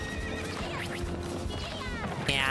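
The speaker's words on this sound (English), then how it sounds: "Do I hear a horse? Is someone coming for me?" Horse neighing in the video game Princess Peach: Showtime!, a whinny with clip-clop hooves beneath game music, rising louder near the end.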